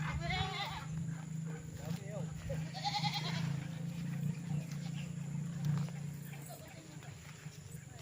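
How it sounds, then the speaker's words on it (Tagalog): Goats bleat a few times on a fenced farm lot in Liliw, Laguna, amid outdoor ambience while someone talks over them close to the microphone. "may alaga silang kambing dito, saka mga bibe"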